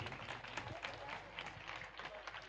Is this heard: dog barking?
no